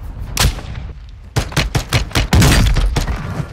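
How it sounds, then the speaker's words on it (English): Gunfire in Warzone, a Call of Duty battle royale game, with a pistol in use: a loud, close string of sharp shots in irregular bursts, some spaced and some rapid, over a steady background din. "I'm going in with a pistol"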